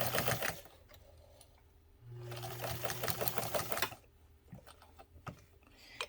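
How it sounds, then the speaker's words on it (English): A Necchi Mira BU sewing machine runs a straight stitch in two quick bursts of rapid, even needle clatter separated by a pause, close and fairly quiet, with a short reverse run near the end. "here we go with our straight stitch. Makes nice sharp corners. And reverse works."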